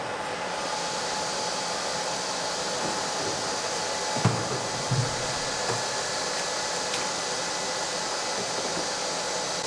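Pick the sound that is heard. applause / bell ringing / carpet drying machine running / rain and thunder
carpet drying machine running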